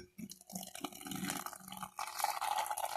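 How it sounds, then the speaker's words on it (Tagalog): Boiling water poured into a cup, a soft trickling and filling sound over a few seconds, quiet and close, with no talk. "Ngayon, kukuha tayo ng ininit na tubig. Yung kumukulo na tubig."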